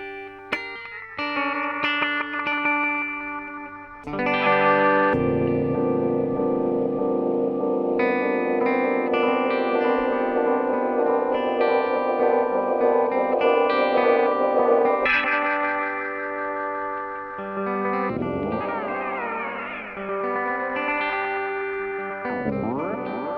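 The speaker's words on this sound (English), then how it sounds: "So I've turned the delay time up on the main delay, and I've reduced it way." Guitar run through a Sinvertek Fluid Time MKii delay pedal, with loud sustained notes and chords trailing into repeating echoes that swirl and pitch-bend near the end, alone without talk.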